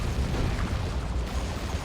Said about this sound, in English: Manticore strike.